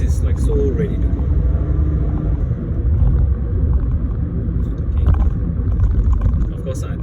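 A Perodua Myvi engine at full throttle inside the cabin, a loud steady low rumble of acceleration that fills the whole stretch, with speech partly over it.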